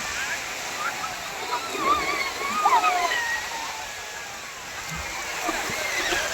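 Sea waves washing onto the beach at Digha, a broad steady rush of surf and splashing water at moderate distance, with faint voices and chatter in the background.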